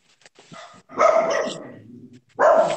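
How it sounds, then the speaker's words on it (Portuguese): Mixed-breed dogs bark in short bursts, a few sharp yips followed by two louder, fuller barks about a second apart, fairly close with quiet gaps between. "Meus vira-lata tá tudo latindo aqui, ó."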